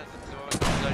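A single loud gunshot cracks in a video game line battle set in urban house-to-house combat, a sharp burst near the middle of the clip with a brief echoing tail, following quieter game ambience.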